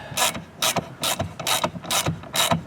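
A socket ratchet starts the 6.3 by 20 screws on a 2021-2023 Tesla Model Y during an accessory install, making six quick, loud bursts of clicking in an even back-and-forth rhythm, up close and with no speech.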